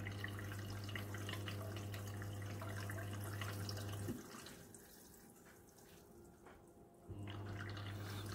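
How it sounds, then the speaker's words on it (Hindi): IFB washing machine taking in water for a blanket wash, a steady rushing fill with a low inlet hum that cuts out midway, leaving quieter trickling and splashing, then the hum resumes. "ये अभी पानी ले रहा है।"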